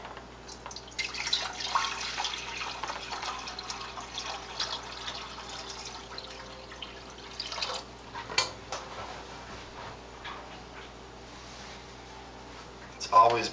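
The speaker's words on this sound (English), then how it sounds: "pour my spring water in first." Spring water pours into a pot in a soft, continuous trickle with occasional splashes and clinks, fairly quiet and close.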